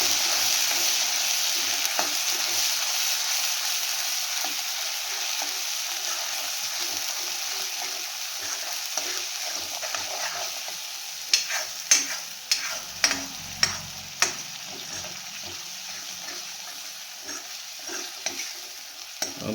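Grated onion fries in a pan for kari pakoda, with a steady, close hiss of sizzling and, later, a series of sharp clicks as a spoon stirs against the pan.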